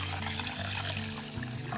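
Water poured over a cup of raw white rice set to soak for Jaffna-style paal roti, a continuous close splashing and trickling stream with a low hum beneath it, no talking.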